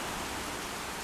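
A torrential downpour of rain hisses as a dense, steady, even wash of noise, continuous and unbroken for the whole moment with no voices.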